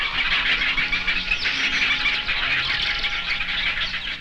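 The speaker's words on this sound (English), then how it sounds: "Many birds share nesting grounds." Dense chorus of many birds calling at once at a crowded shared nesting colony on an island, a continuous high chattering wash with no pauses.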